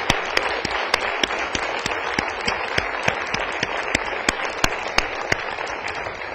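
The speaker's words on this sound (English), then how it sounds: "So let's have one last round of applause for all of our speakers, for Sophie, Mike, Damika, Frank, John, and" Conference audience applauding the speakers, a dense wash of clapping with sharp individual claps popping out, steady and moderately loud for several seconds.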